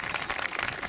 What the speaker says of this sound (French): je pense qu'on peut encore l'applaudir, applaudir lui et son équipe